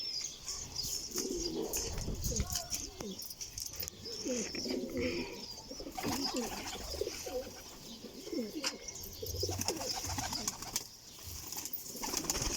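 Domestic pigeons coo in soft repeated rounds throughout, with occasional wing flaps and chirps from a backyard flock being fed, close and steady.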